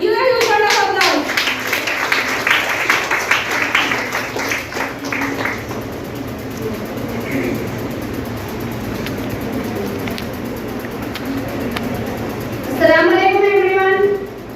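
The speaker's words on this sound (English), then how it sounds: "Give a huge round of applause." Audience applause rings out at an AIDS awareness day gathering of a Unani medical college, brisk clapping at the start fading under a speaking voice, then another burst of claps near the end.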